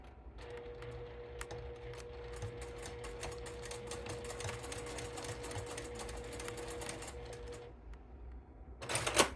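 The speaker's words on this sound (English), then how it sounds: "I'm going to do a really tight stitch. I'm just going to baste it about an 1/8 of an inch away." A sewing machine basting clear vinyl with a tight stitch, a steady fast mechanical whir and needle chatter running for several seconds before stopping, followed by a brief louder rustle.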